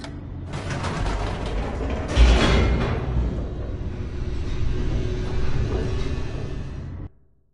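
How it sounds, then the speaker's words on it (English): An elevator plunges downward in the video game The Stanley Parable: a steady, loud mechanical rumble with creaks and rattles runs for about seven seconds, swells briefly early on, then cuts off abruptly. "The elevator raced downward, plummeting towards an unknown fate."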